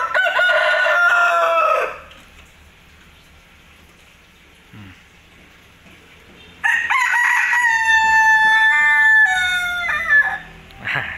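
Burmese rooster of the Bangkok line crowing loudly and close, with one long crow at the start and a second extended crow after a quiet stretch, over a steady rain-like hiss.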